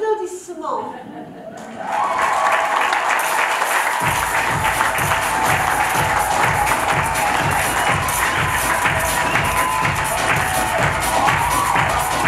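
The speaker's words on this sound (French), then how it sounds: "Applaudissements" Audience applause at a French variety comedy show, a dense, sustained wash of clapping that swells up after a quieter start and then settles into a steady rhythmic beat, loud and close throughout.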